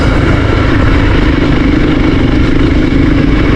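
A motorcycle engine drones loud and steady close by while riding up a mountain trail in the Smokies near 4,000 feet, a continuous mid-pitched rumble with rattling clatter and no pauses.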